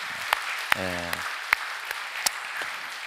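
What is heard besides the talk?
audience applause in church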